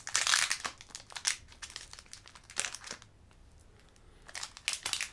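A foil Pokémon card booster pack is torn open by hand, with loud close crinkling and ripping bursts at the start, quieter rustles, a near pause, then more crinkling at the end.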